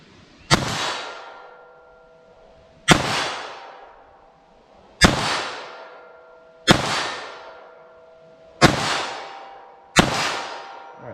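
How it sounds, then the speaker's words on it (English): A rifle fires six CCI Velocitor 40-grain .22 LR rounds, each a sharp, loud crack roughly two seconds apart, followed by a ringing, metallic tail that fades before the next shot. "I'm going to do the CCI Velocitors, kind of see how these fire for me"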